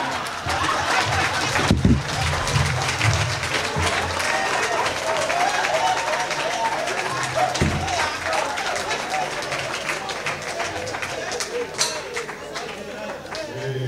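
An audience at a televised song contest in Cotonou claps and cheers for the winning duo, a steady wash of applause that lasts the whole time, with voices and laughter mixed in.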